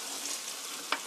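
Homemade Korean seasoned spicy chicken (yangnyeom chicken) tossed in a pan with ground black pepper, giving a faint, steady sizzle and a single soft scrape of the utensil near the end.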